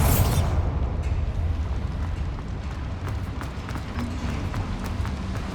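Confringo and Bombarda explosive spells going off in Hogwarts Legacy: a loud blast opens, then dense crackling and rumbling debris continues with scattered sharp pops and impacts, steady and close, without speech.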